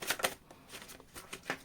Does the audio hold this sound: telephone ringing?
no